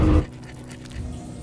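A dog pants in quick, soft breaths after a loud, brief burst at the start, with a faint whimper underneath, close and fairly quiet in an action film scene.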